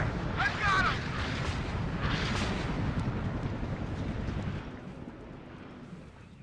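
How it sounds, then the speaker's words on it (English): Artillery fire in the real-time strategy game WARNO, with deep rumbling booms and distant explosions rolling beneath someone talking, fading to a lower rumble toward the end. "Under constant artillery fire, I continue to advance my units forward."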